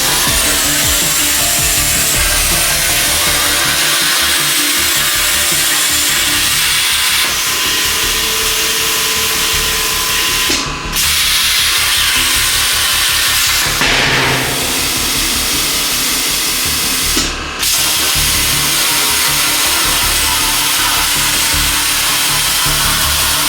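A tube notcher grinds through chassis tubing with a loud, continuous hissing roar that stays steady throughout, broken only by a few brief sharp interruptions, close and dominant.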